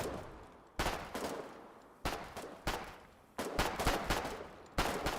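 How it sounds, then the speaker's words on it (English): Bursts of automatic gunfire from enemies in a shooter video game crackle in repeated volleys, four rapid strings of shots each fading before the next, moderately distant and without speech. "As long as they keep shooting at me."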